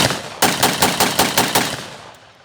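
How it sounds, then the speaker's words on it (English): A WWII-era gun adapted for blank rounds fires a quick burst of about seven sharp, loud shots at an even rapid rhythm outdoors, the reports ringing out and trailing off at the end. "It's been recently blank adapted, so I'm hoping it'll go ahead and fire."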